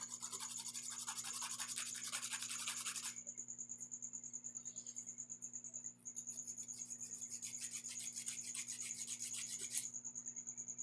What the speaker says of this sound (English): It's really hard to file your own nails like this, especially with acrylic.